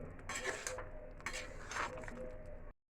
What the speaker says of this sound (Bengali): অল্প আঁচের মধ্যে আস্তে আস্তে এটাকে নাড়তে থাকবো।